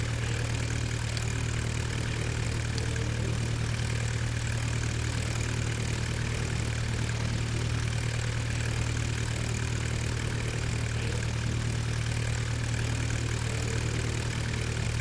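A vintage 1909-era propeller airplane engine drones in Flight Simulator X over the English Channel, a constant low steady hum with no variation throughout.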